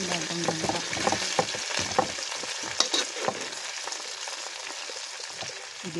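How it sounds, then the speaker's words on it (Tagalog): Boiled jackfruit sautéing in oil with garlic, onion and ginger, a steady close sizzle with scraping stir strokes that fades to a softer frying hiss. "Ibibisa ko muna ng konti sa mantika."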